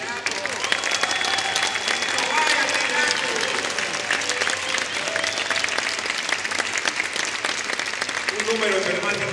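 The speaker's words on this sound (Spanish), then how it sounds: "Un aplauso para ti, hasta allá." A large audience at a jazz concert claps and applauds steadily for several seconds, a dense continuous wash of clapping with a few faint voices mixed in.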